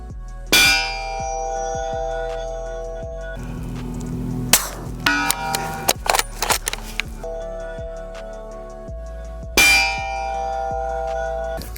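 Suppressed B&T APR rifle in 8.6 Blackout fired at steel targets: two loud sharp clangs ring out with long metallic decay, separated by a burst of scattered clanks and knocks in between.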